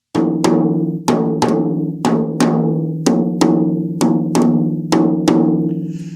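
Tom drum struck repeatedly during tuning, about a dozen close, sharp hits each ringing out with a resonant low pitch and decaying tail, spaced in a fairly even rhythm with no talking over them.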